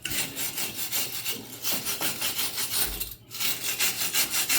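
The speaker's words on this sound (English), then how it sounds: "we're just going to take the wire brush to clean up this flange" A wire brush scrubs a metal flange on a 1965 Chevelle during a rear disc brake conversion, in fast, even back-and-forth strokes, loud and close, with one brief pause partway through.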